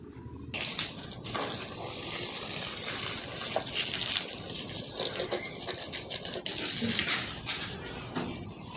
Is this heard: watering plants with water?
yes